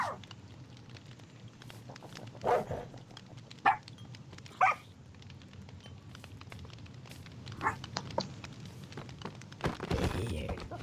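Several dogs barking in a Minecraft survival game, scattered short yips and barks at irregular intervals over a steady background hum, with some talk around them.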